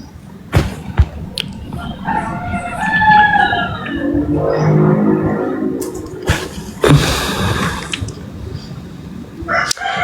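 A neighbor's rooster crows in a drawn-out call, fairly close and clear, amid background clatter and a few sharp knocks, with faint murmuring voices nearby.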